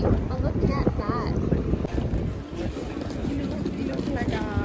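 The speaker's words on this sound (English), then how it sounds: "It's so windy." Strong gusts buffet the microphone outdoors in Munich's Old Town, making a steady low roar and rumble throughout while people talk over it.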